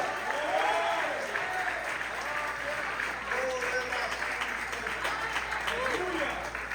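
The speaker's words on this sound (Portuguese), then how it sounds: "Você pode aplaudir ao Senhor?" A church congregation during a family worship service applauds steadily, a thick continuous clapping from many people, with scattered voices calling out and shouting over the hands throughout.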